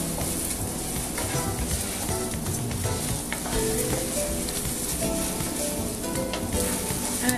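Mushroom risotto rice sizzles in a hot pan as it is stirred, giving a steady, close frying hiss with soft scraping running through it.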